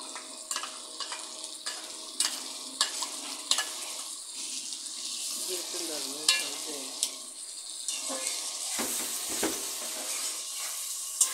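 Ground garlic, ginger, cumin, green chilli, dried chilli and onion pastes sizzle in a pan for a Bengali koi fish dopeyaja, a steady hiss with scattered clinks and scrapes of stirring and a brief watery splash late on.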